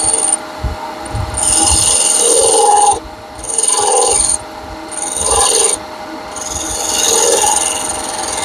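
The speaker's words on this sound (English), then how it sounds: "This, what I'm doing is shear scraping." Shear scraping wood on a lathe, the wing of the tool rasping steadily across the spinning workpiece in four long passes separated by short pauses, close and loud with no talk.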